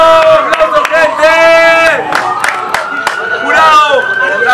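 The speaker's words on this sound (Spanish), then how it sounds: "¡Tiempo! ¡Aplausos, gente!" A crowd at a 2vs2 freestyle rap battle tournament claps and shouts after a round, sharp handclaps scattered among loud whooping and cheering voices close by.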